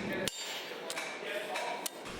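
Hot cutting the end off a rusty file blade, with a few sharp metallic strikes spaced about half a second apart over a steady roaring background, close and fairly loud.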